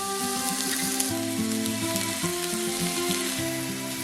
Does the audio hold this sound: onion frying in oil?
yes